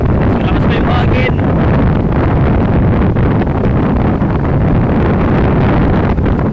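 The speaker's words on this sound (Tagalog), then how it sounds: "Malakas pa yung hangin." Strong wind buffets the microphone in a loud, continuous roar during a storm, with a faint engine-like rumble beneath and no clear speech.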